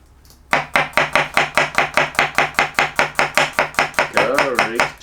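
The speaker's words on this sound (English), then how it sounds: "let's get to chopping up our ingredients" A knife chops garlic on a cutting board in fast, even strokes, about twenty close, sharp taps in a steady rhythm with no talking.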